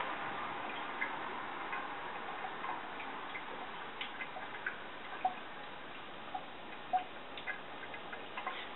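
Faint, irregular water drips inside a toilet, small sharp ticks spaced unevenly over a quiet room hiss, a few slightly louder drops standing out.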